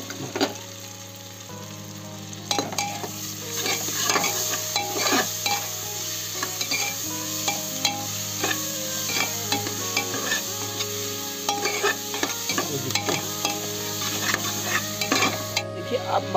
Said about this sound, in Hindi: देखिए मसाला पक रहा है, देखिए ब्राउन बिल्कुल हो गया